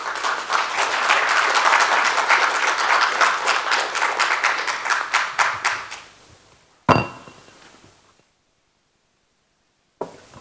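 An audience at a business event applauds the panel members. Dense clapping gradually thins into scattered individual claps, followed by a sharp knock and then silence.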